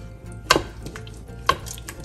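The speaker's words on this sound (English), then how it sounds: "You will stir these together." Dried fenugreek leaves and cilantro being stirred into a paneer butter masala gravy, two distinct spoon knocks against the pan over a faint background simmer, close and otherwise quiet with no voices.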